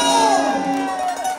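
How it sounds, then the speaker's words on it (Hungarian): At a first birthday and christening celebration, a crowd cheers and whoops in a brief loud burst, excited voices and shouts rising over scattered clapping. "Hatalmas tapsot szeretnék kérni."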